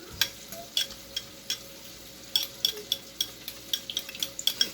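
Sweet and sour sauce of soy sauce, vinegar and brown sugar being stirred with a utensil for a Thai fish dish, giving a run of light, close clinks and scrapes in a quiet kitchen with no talking.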